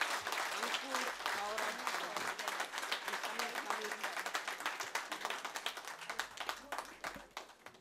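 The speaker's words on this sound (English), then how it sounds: "A big round of applause to you yourself." Applause at a national conference of practising company secretaries, many hands clapping in a crisp, fairly close patter that thins slightly toward the end, with a voice briefly heard under it at the start.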